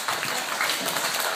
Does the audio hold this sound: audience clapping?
yes